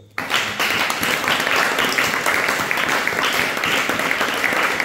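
Sustained applause from a church congregation during a French-language sermon on spiritual gifts, a dense, steady wash of clapping that begins abruptly and continues loud and even throughout.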